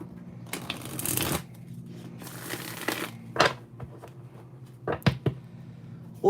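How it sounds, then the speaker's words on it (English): Someone shuffles a deck of cards close by, quiet riffling and sliding bursts followed by a few sharp taps and snaps as the cards are squared up. "do a quick shuffle"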